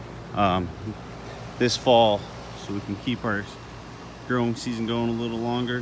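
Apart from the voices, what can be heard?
air conditioning unit running outdoors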